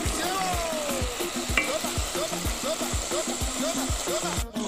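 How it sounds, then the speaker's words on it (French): Red tuna sautéing in a pan for a Comorian dish of moringa in coconut milk, a steady close sizzle and frying hiss broken by a regular rhythm of utensil scrapes and stirring clicks. "je saute le thon rouge, le mbassi, pour mettre dans le moringa"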